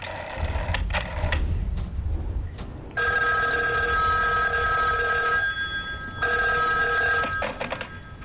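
An old-style telephone bell rings loud and close in long metallic trills with short gaps between them, preceded by some clattering mechanical noise.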